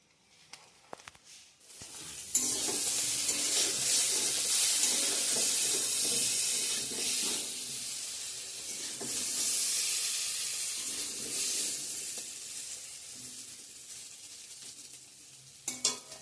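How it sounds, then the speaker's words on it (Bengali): Eggplant slices frying in a hot pan give a steady, loud sizzle and crackle for most of the stretch, with occasional stirring scrapes and a brief quieter start. "আমার বেগুন ভাজাটা এদিকে হচ্ছে"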